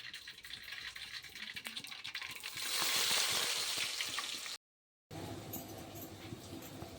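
Onions for upma sizzle in a pan, a close crackling fry that swells louder midway, then a brief silence before a steadier sizzle resumes; no talk.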